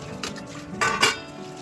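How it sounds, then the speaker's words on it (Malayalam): Pots, pans and cutlery clink and knock together during dishwashing in a home kitchen after lunch preparation, with a few brief soft clatters close by and no talk. "അപ്പം ഇനി നമുക്ക് കുറച്ച് പാത്രങ്ങളൊക്കെ കഴുകി വെക്കാനുണ്ട് കേട്ടോ."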